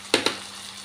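Tamarind and tomatoes cook in a pan with a soft, steady sizzle, broken by two quick scraping knocks close together as the mixture is stirred.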